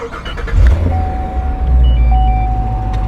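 A Corvette C7 Z06 wide-body with an AFE intake pulls away, its engine rumbling deep and close, while a steady electronic tone beeps in the cabin.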